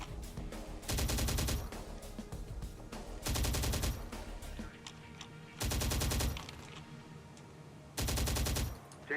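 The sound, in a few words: gunfire in Terminator: Dark Fate Defiance video game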